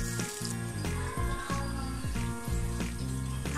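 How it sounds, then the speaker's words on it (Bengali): Chewa fish frying in oil, turned to cook the second side, gives a steady close sizzle mixed with clinks and scrapes from utensils in the pan, and no one talks. "আমি আরেক পাশে ভেজে নিচ্ছি।"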